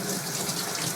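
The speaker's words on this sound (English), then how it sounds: "Now I'm going to rinse off the stripper and the lacquer" Running water rinses chemical stripper and lacquer off a brass trumpet, a steady close-up gush and splash that stays even from start to finish.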